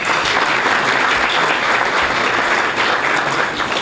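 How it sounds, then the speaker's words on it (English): A banquet audience breaks into loud, dense applause, many hands clapping in a continuous wash that holds steady from start to finish with no voices standing out. "Let's give a round of applause to those folks."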